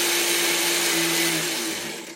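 An Oster Kitchen Center blender with a steel bowl runs at a steady high-pitched whir with a faint motor hum beneath, then begins to wind down at the end.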